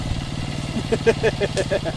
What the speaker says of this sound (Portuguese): Cuidado, pai. Essa moto sem freio.